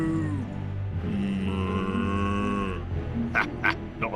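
A long, low cow moo drones for a few seconds in the video game Hector: Badge of Carnage, loud and close. A couple of sharp clicking noises follow at the end.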